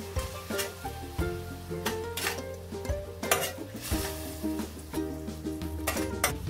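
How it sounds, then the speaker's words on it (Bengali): Spice paste for a Bengali prawn and pumpkin-leaf ghonto is stirred and fried in a pan with a splash of water, a steady scraping and clinking of the spoon against metal repeating over a soft continuous sizzle, close and fairly loud. "এবার মশলাটাকে খুব ভালো করে কষিয়ে নিতে হবে।"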